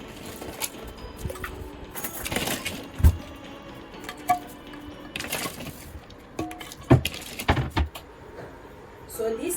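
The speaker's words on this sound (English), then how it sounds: "So we are going to add ice in." Ice cubes clatter and crack as they drop into glasses of millet-based and rice-based drinks, several sharp irregular knocks and clinks close by, mixed with background noise.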